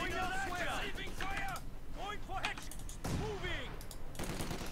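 A machine gun emplacement in a World War II battle game fires clattering bursts amid battle noise, loud and close, with shouting voices overlapping the shots.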